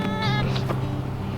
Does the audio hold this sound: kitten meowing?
yes